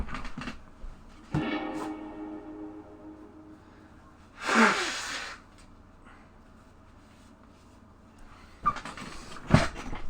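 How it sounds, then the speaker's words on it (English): Nose blowing during a card game commentary: a few short, forceful bursts, one loud blast in the middle and another near the end, close to the microphone over a quiet room. "Sorry guys, just need to blow my nose there."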